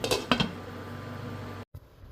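A metal lid clanks down onto a cooking pot of beef sinigang on an induction stove, two quick close knocks followed by a steady low simmering hum before the sound cuts out.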